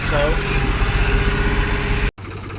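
A tractor running a topper mower across a grass paddock of seed heads, a steady close engine drone that cuts out abruptly near the end.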